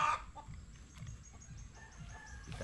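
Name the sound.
chicken clucking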